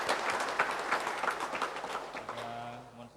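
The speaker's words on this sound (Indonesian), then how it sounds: "Kita beri tepuk tangan pada Bapak Uskup dan Beliau." A church congregation at a Sunday Mass applauding the visiting bishop, with steady, dense clapping that fades toward the end as a low hum enters.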